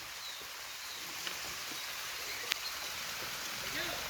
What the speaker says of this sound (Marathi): वरून अगदी पाणी येते